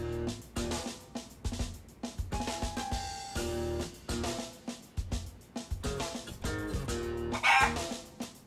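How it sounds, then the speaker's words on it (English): A chicken clucking and squawking in the Yakuza: Like a Dragon video game, several bird calls scattered over steady game music at moderate level. "Why is there a chicken here?"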